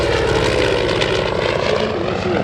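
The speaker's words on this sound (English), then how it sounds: "The Hellcat, the F6M." A Grumman F6F Hellcat propeller fighter flies past at the Wings Over Camarillo airshow, its piston engine giving a loud, rich, throbbing drone with a steady low rumble that holds strong throughout.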